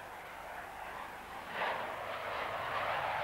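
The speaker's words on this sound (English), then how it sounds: "Two Buccaneers from number 12 squadron, RAF Honington." Two RAF Buccaneer subsonic low-level strike jets of a Royal Air Force squadron fly past, giving a steady, broad engine roar that swells slightly partway through and holds at moderate distance, with no voices.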